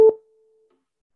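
A tuning fork is struck and set against a harp, giving a brief knock followed by a single clear pitched tone that rings steadily for about half a second before fading away.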